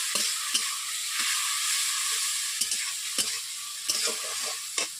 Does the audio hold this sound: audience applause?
no